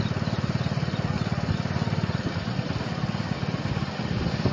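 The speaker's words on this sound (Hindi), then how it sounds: "मोटरसाइकिल ना लेके आओ यार बिच।" A motorcycle engine runs at a steady, loud, pulsing idle close by during a 5 km running race, droning the whole time with no pause.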